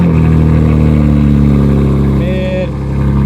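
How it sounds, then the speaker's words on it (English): A BMW M4 Competition's engine runs steadily with a deep, continuous rumble, held near and loud for the whole stretch, with a brief higher tone sliding in toward the end; people talk over it. "Start your car up! You know I have no registration on my plate right now?"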